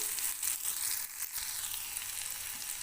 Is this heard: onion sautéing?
yes